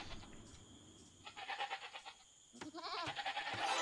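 Sheep bleating in a video game, a run of several wavering calls in the second half over a thin steady backdrop, with faint game effects earlier.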